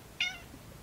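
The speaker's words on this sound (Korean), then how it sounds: "야옹아, 야옹아, 들어와." A single short, bright cat meow close by at a seaside camping spot on a rainy day, standing alone over a soft background hiss.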